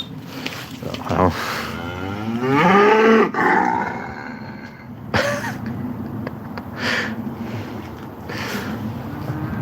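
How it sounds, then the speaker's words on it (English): Cows on a farm moo loudly and close by, with one long drawn-out bellow followed by shorter lowing calls against outdoor background noise. "It's the cows marching on."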